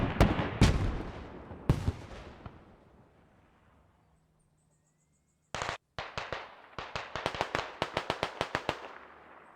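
Several loud, sharp detonations boom in the first two seconds of a Squad match on the Narva map, then fade to a brief hush before a rapid string of close gunfire cracks and further bangs.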